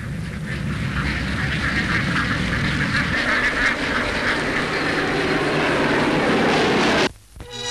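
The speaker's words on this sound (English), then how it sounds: "with planes continually flying over the field and scaring them off" Low aircraft engine noise roars steadily over an open field while ducks quack and scatter, the drone continuous and fairly loud before cutting out abruptly near the end.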